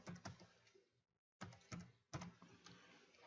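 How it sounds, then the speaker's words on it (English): Someone types on a computer keyboard while setting text for a class ring design in ArtCAM: close, quick bursts of key clicks, briefly pausing in the middle before resuming at a steady clatter. "I'll start to type."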